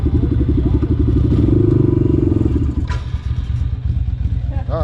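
A 300 engine runs while still cold in a workshop with a rapid, loud, pulsing chug and some clatter that eases into a rougher idle. A voice can be heard faintly at points.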